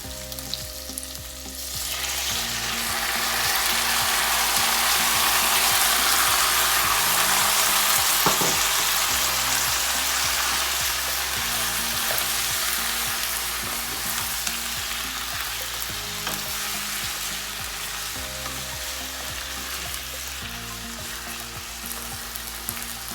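Tomatoes frying in a hot pan for paneer butter masala, a loud, dense, crackling sizzle that flares up after they go in and then settles, with faint music underneath.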